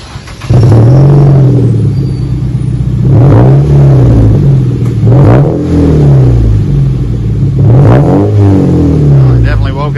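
A 2009 Mazda Miata with an axle-back split dual exhaust revving repeatedly, several loud rising and falling blips over a deep rumbling idle, recorded close.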